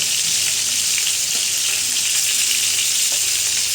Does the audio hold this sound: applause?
no